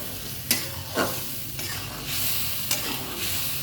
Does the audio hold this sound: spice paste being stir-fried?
yes